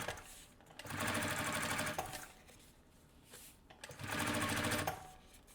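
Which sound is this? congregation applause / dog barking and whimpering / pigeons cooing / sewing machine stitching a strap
sewing machine stitching a strap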